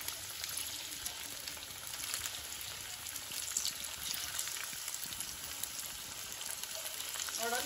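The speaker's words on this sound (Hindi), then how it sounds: "तो अब हम रेडी हैं इसको डीप फ्राई करने के लिए।" Sabudana tikki deep-fry in hot oil with a steady, dense sizzle and crackle that stays even and close throughout, with no talk.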